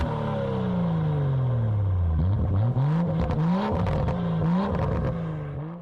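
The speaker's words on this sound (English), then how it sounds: "Now let's listen to the sound of the exhaust X4." A BMW X4 M40i SUV exhaust idles then revs repeatedly, pitch sweeping up and down in several throaty bursts before settling back, close and loud.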